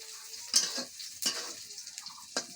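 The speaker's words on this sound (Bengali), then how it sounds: "রসুন সব ভাজি করা হচ্ছে। অল্প পরিমাণে তেল দিয়ে ভাজি করা হচ্ছে।" Chopped garlic fries in a small amount of oil, giving a steady close sizzling hiss broken by three sharp scraping stirs, with no talk.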